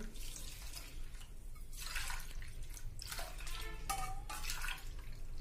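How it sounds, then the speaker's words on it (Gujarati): Hot water is poured in quiet bursts onto soaking lentils in a container, splashing and gurgling with short pauses between pours. "મેં એકદમ ગરમ કરેલું પાણી 3 કપ નાખું છું।"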